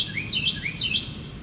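A bird calls loudly from outdoors, two bright rising-and-falling chirping phrases repeated in quick succession over a low background hum, with no talking.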